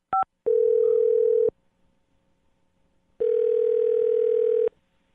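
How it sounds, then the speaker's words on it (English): A telephone sounds two short dial beeps while calling out, then two long steady tones separated by a gap of silence, clear and alone. "I'm going to dial his phone number right now, get him on the phone"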